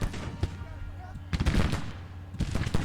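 Battlefield gunfire and artillery in the strategy game Grand Tactician: rolling volleys of musketry and distant booming shots in uneven bursts, with a lull between clusters and a faint voice under the noise.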